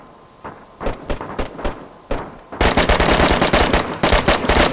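Video game gunfire opens with scattered single shots. It then breaks into a loud, rapid run of close, crackling bursts that keeps going to the end.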